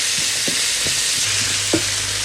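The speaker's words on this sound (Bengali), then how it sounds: "এই তেলেই অল্প একটু পেঁয়াজ কুচি, সাথে হচ্ছে রসুন কুচি আর কাঁচামরিচ কুচি দিয়ে" Chopped onion, garlic and green chilli fry in hot oil with a steady, close sizzle, broken by a few soft scraping stirs, and no voices.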